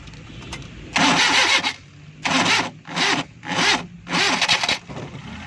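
A Suzuki Bolan van's engine cranks and catches in several separate bursts of rough, loud turning over, with brief quiet gaps between attempts.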